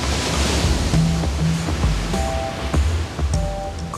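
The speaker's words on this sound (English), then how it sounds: "Dark volcanic rocks exposed to the waves and currents." Ocean waves break against dark volcanic rocks on the Cape Verde coast, a steady close-up roar of surf with no voices and a few faint tonal notes layered over the wash.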